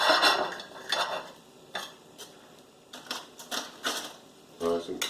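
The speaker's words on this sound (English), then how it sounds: "Just going to slice a little piece off. Slice a couple pieces off." A knife cuts pieces off a smoked beef brisket, producing a handful of short, crisp scraping and clicking bursts at irregular intervals, close and moderately quiet.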